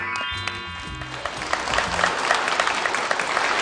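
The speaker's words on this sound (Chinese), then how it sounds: "来，咱们掌声请郭威和贾旭明" Loud, sustained applause from a crosstalk show audience welcoming the performers to the stage, swelling after the opening second and carrying on steadily, with a few faint voices beneath it.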